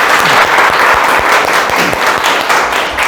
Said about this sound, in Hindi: तो यार मेरे लिए ताली बजाओ